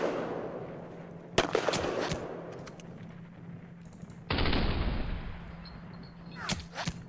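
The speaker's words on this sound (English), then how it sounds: "Hit by heavy artillery." Heavy artillery fire in the wargame Panzer Campaigns Kiev 43 hits as a sharp blast, followed by a burst of rumbling explosion and a few more cracking bangs over a steady low game hum.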